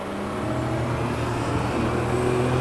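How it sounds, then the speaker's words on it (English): Inside a 670 hp carbon-bodied car, a steady engine drone with turbo whine and wastegate hiss holds at moderate loudness throughout, with no talking. "In the car, you get turbo noise and wastegate."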